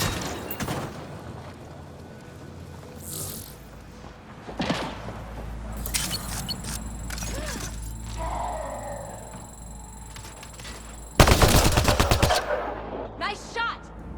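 Bursts of weapon fire in the video game Mass Effect Andromeda, with sharp isolated shots early on and a loud rapid volley near the end, alongside game sound effects and brief voices.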